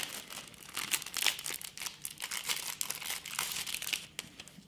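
Crinkly plastic wrapping is torn and crumpled off a deck of cards from a World War II card game, close and busy for several seconds, with no voices.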